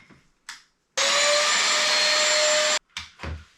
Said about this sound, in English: Is this a vacuum? Yes, a very small one, but it is a vacuum.